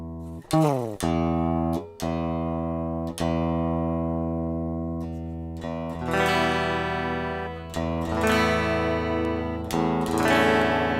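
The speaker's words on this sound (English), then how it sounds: "that's just the clean sound of the guitar, nothing else" A clean, undistorted electric guitar rings out chords and single notes, each strum sustaining and fading, played alone and close.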